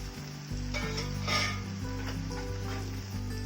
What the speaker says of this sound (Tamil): இந்த எண்ணெயிலே வதங்கிருச்சுன்னா நல்லா இருக்கும்